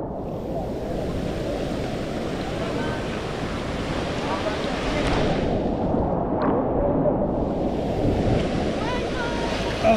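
Ocean waves wash and rumble steadily near a boat on an island-hopping tour around El Nido, with wind buffeting the microphone and voices talking faintly underneath.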